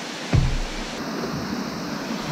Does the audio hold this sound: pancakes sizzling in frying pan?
no